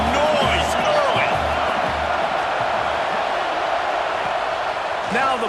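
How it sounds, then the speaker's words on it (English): A packed college football stadium crowd at Michigan versus Michigan State roars continuously and loudly, a broad, steady wall of cheering noise that holds for several seconds. "This crowd bringing the energy and noise early."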